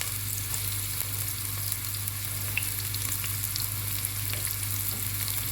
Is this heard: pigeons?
no